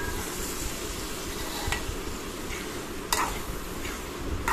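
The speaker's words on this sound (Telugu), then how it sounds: "శనగపప్పు అనేది ఆయిల్లో మంచిగా ఫ్రై అవ్వాలి." Chana dal fries in oil in a pan with a steady, fine sizzling crackle. A spoon scrapes and stirs through it, with a couple of sharp metallic clinks against the pan.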